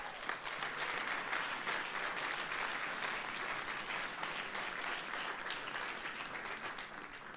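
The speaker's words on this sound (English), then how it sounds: "Round of applause for that now," Wedding guests applaud together, a thick continuous wash of clapping heard from some distance, even and sustained throughout with no voices breaking through.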